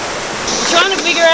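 A waterfall pours with a loud, broad rushing roar that swells toward the end, while a person speaks over it.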